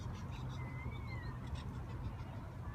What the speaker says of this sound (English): we've got birds and a parrot singing in the tree